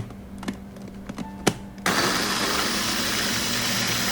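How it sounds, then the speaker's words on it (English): A Ninja blender blending fruit with a splash of orange juice, a few clicks and knocks before the motor kicks in loudly and whirs steadily at close range. "This is my Ninja blender."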